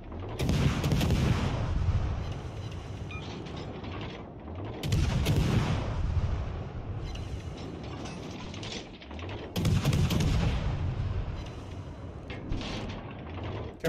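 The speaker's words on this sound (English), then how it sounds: "He just fired his rear turret at me." Warship turret guns firing in World of Warships Legends, three heavy booming salvos spaced a few seconds apart, each with a mechanical rumble and clatter trailing off, no voices.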